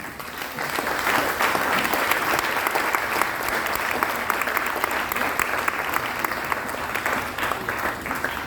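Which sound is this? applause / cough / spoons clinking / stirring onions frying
applause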